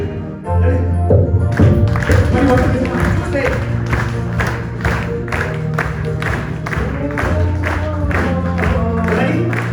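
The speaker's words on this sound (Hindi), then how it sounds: "ताली बजाते हुए आप लोग गाइए" A church congregation claps in a steady rhythmic beat while singing a Hindi worship song at a House of Prayer service, sharp regular claps layered over loud voices and instruments.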